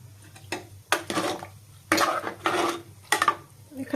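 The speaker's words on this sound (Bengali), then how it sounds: "এবার বাকি দুধ আমি এর মধ্যে ঢেলে দিচ্ছি।" Cold milk poured into payesh in a pressure cooker, several separate pours and splashes a few seconds apart with metallic clinks of the pot and quiet gaps between them.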